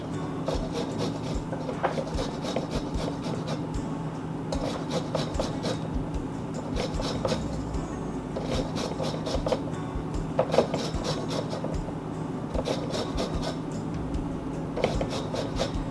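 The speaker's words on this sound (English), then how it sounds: "Now when you zest a lemon, you don't want to go too deep." Lemon zest being grated makes quick, continuous scraping strokes in short rhythmic bursts, close up over a steady hum of kitchen background noise, with no talking.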